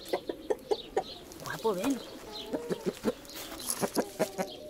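Chickens and a rooster in a backyard coop cluck in short, repeated bursts throughout, with one drawn-out vocal call in the middle, and a person briefly speaks over the birds.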